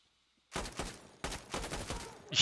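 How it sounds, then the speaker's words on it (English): Rapid bursts of M249 light machine gun fire in the shooter game Insurgency: Sandstorm, loud and close, coming in several clustered volleys after a brief silence. "Did you see how the guy's body just exploded from a couple of M249 rounds?"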